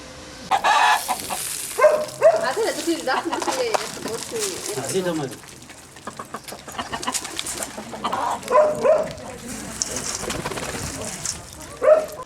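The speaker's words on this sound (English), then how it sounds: "And with the pigeons." Pigeons coo and flutter close by, soft throaty calls repeating in bursts with a few louder notes and some background shuffling.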